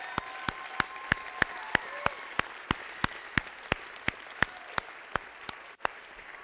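A church congregation applauds mission trip leaders in a sustained, even wash of clapping. Regular sharp, rhythmic clap-like beats stand out clearly above the crowd throughout.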